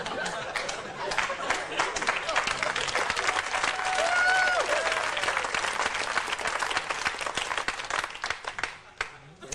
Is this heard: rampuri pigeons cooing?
no